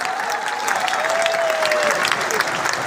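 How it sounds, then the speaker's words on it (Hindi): Crowd applause at a Hindu religious rally, a steady wash of many hands clapping, fairly loud and continuous, with a faint sustained tone running beneath it. "तालियां बजाइए"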